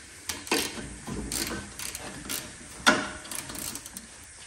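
A ratchet clicks while spark plugs are taken out of a 26 HP Briggs and Stratton engine on a John Deere mower, with short bursts of clicking and metallic clanks close up.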